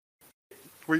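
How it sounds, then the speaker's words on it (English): A person clears their throat close by in a short, rough burst, with a brief softer catch just before it. "I had to clear my throat."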